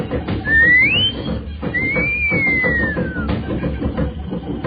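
A clear wolf whistle, rising sharply and then sliding down in a long drawn-out note, heard above loud, busy background crowd noise.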